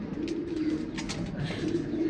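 Racing pigeons coo softly and continuously nearby, low throaty murmurs rolling over one another in an enclosed loft.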